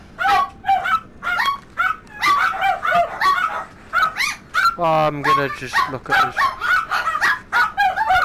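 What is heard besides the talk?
dogs barking at home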